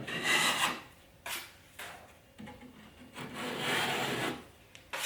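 Excess adhesive is scraped off freshly fitted cornice coving in bursts of close, gritty rasping and rubbing, with short pauses between the strokes.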